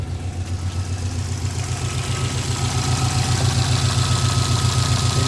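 A Subaru WRX with a faulty cabin heater idles steadily and close by, a loud low rumble with an even, rapid pulsing throb that holds throughout.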